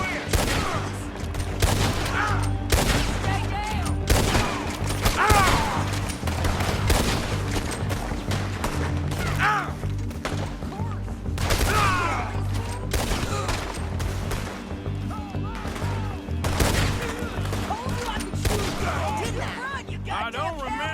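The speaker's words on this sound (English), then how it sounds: "Nice shooting." Sustained shootout gunfire in the western video game Red Dead Redemption 2: dense, repeated sharp shots and volleys throughout, loud and near, with game voices and background sounds mixed in.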